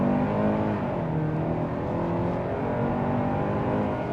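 A 2026 Kia Sportage SX-Prestige accelerates hard on a test drive, its engine note a steady, rising whir heard from inside the cabin, continuous and fairly loud with no voices.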